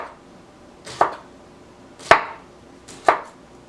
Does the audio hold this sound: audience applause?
no